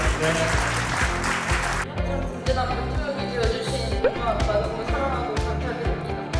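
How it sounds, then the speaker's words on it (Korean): Applause greets new players at a handball league rookie draft event, starting with a denser burst then thinning to scattered claps over a low rhythmic thumping in the background. "여러분 박수 한번 주세요."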